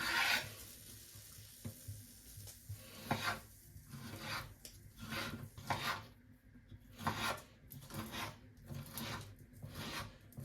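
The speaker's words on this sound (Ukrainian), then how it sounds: "Я сало ріжу невеличкими кубиками" A knife chops pork fat into small cubes on a cutting board, with rubbing, scraping strokes and soft thuds in an uneven rhythm, close up and fairly quiet.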